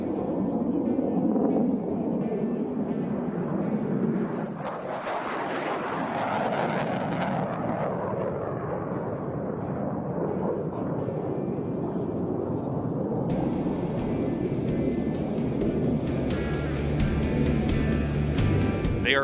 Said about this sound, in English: First to the perch, the F-16 Fighting Falcons, better known as the Vipers of the 64th Aggressor Squadron.